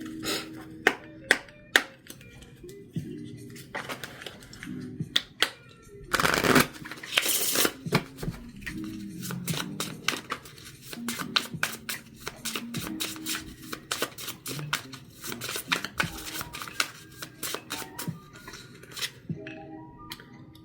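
A Shadow Work Oracle card deck being shuffled by hand, with a long run of crisp riffling and tapping bursts, some card flicks standing out sharply, close and clear with no talking.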